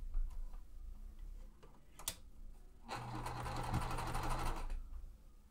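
A domestic sewing machine stitches quilt pieces for a Tree of Life quilt. Soft ticking comes first, then a steady run of stitching lasting about a second and a half, close and fairly quiet.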